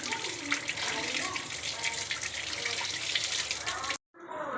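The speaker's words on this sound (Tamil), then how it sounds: "இதை இப்போ கழுவிக்கலாம் கழுவி எடுத்துக்கிறோம்" Dragon fruit washed in water makes close, continuous splashing and sloshing for about four seconds before stopping abruptly, followed by a short quieter tail.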